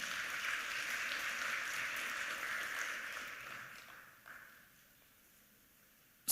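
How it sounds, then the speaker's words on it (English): Sustained audience applause at an awards event during a substance use prevention week, dense and steady for about four seconds before thinning out and fading to near silence. "Can we give her a round of applause?"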